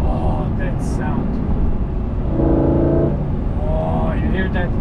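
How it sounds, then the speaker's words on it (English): A mid-engine, all-wheel-drive Lamborghini Gallardo revving, a deep engine drone climbing briefly in pitch and settling, heard loudly from inside the car with a voice speaking over it. "You hear it building up the revs."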